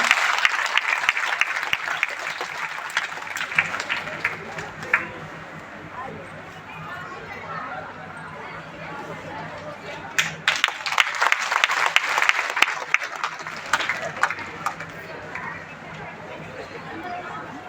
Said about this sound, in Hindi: एक बार जोरदार तालियां बजा के स्वागत करें